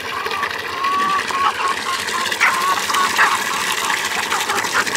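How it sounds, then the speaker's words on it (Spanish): Water gushes and splashes steadily outdoors in a rural setting during the rainy season, a continuous close rush with faint bird or rooster calls in the background. "Es relajante escuchar el sonido del agua."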